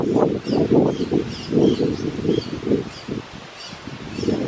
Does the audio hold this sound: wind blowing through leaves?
yes